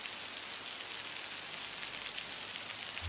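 Steady rain pours at night in Life is Strange 2, a dense, even hiss of drops on surfaces, constant and unbroken with no voices.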